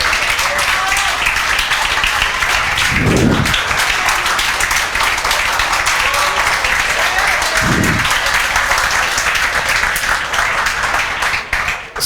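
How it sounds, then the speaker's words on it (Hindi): Sustained, loud applause and clapping from a classroom of students, continuing steadily without a break for the whole stretch. "बजाओ भाई, विशेष तालियां बजाओ।"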